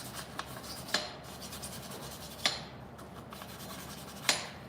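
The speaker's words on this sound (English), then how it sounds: "between the studs and the hub, little wire brush" A small wire brush scrubs between the wheel studs and the hub on a car brake job, making a steady close rasping rub with a few sharper scrapes at intervals.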